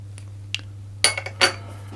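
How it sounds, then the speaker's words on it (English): Dried herbs, yeast and sugar mixed in a bowl with a utensil, a few sharp close clinks and scrapes against the bowl in quick bursts over a faint low hum, no talking. "I'm just going to give those a quick mix around."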